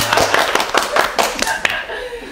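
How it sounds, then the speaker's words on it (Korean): A short burst of clapping from a small studio group during a Korean health talk show, a handful of sharp separate claps with light laughter, fading out after about two seconds. "박수!"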